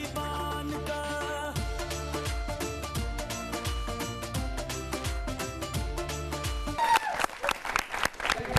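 Audience applause for a stage performance at a Diwali show, a loud, mixed roar of clapping and cheers that swells near the end over the band's driving, rhythmic music.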